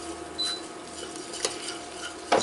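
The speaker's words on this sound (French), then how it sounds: "Une fois que le beurre est fondu, on vient ajouter la farine. Et on remue assez rapidement." Butter and flour roux is stirred quickly in a saucepan, giving soft scraping with a few light clinks of utensil on pan, quiet and brief.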